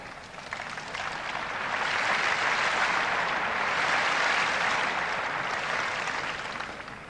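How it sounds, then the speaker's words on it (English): Crowd applause at a 1984 Wimbledon semifinal tennis match, rewarding John McEnroe's sprint for a ball: a broad, dense wash of clapping that swells for several seconds and then eases slightly, with no voices on top. "the applause, I think, for McEnroe even having the courage to make a sprint for that"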